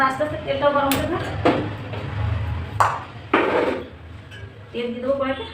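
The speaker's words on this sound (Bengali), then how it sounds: "ততক্ষণ আমি কড়াইটা উনুনে চাপিয়ে দিই" A metal kadai set onto a home kitchen stove while litti chokha is being cooked: a few sharp clanks and knocks of metal cookware, heard under a person talking.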